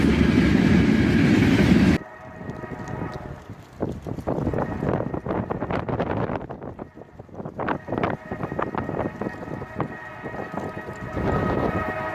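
Coal train led by an AC44CW and an SD70MAC locomotive rumbles past, opening with a loud engine roar, then a long run of rattling, clanking wagons with wind buffeting the microphone.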